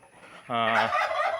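A native spotted rooster gives one short, harmonic call lasting under half a second, close and clear against a quiet background.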